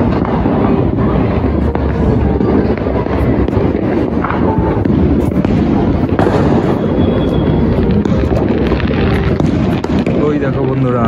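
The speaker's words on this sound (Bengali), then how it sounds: "ওইদিকে সব সেল ফাটছে" Fireworks burst at New Year in a loud, dense, continuous barrage of cracks and booms, with a voice talking over them.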